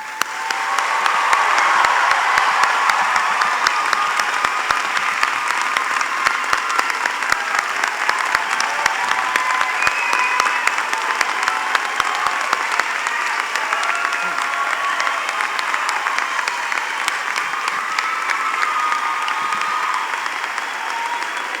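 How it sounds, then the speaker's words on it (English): A graduation ceremony audience at a summer 2019 commencement gives the graduates a long, steady round of applause: dense, even clapping from a large crowd that holds at full strength throughout, with no break. "we honor all these graduates with a well-deserved round of applause"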